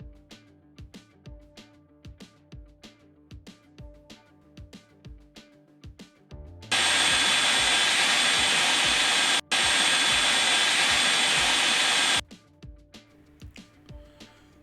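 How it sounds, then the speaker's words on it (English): A food processor whizzes chopped tomatoes for a chicken jalfrezi, a loud steady motor roar lasting several seconds with a brief stop midway, preceded and followed by rhythmic knocking. "I'm going to whiz these up. I'm going to put them in a food processor."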